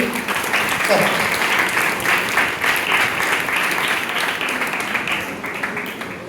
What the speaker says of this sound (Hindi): तो खुदावंद यीशु मसीह के लिए जोरदार तालियां बजाइए।